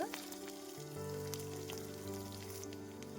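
A tadka of cumin, curry leaves, two red chillies, one green chilly and asafoetida sizzles in hot oil, a steady close frying hiss with faint crackles and no talking.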